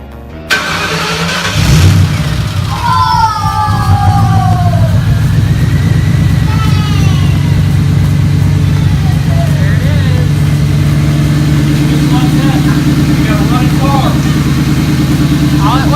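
A 2001 Ford Mustang GT with holes in its mufflers fires up loud and close, then settles into a heavy, rumbling idle that holds for the rest of the stretch while voices talk over it.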